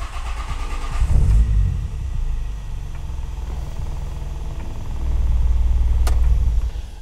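A car running on a standalone ECU starts up with a brief loud burst of cranking and revving, then settles into a steady low idle. The engine rises again toward the end, close and continuous with no talk.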